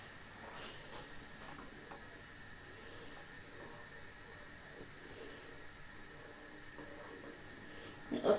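Steady hiss of a pot of water on a stove, constant and even, a quiet kitchen background with no one talking.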